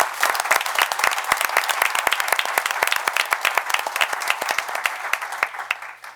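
Attendees at a town board meeting applaud police award recipients, with sharp, distinct individual claps in a brisk, fairly loud round that thins out at the close.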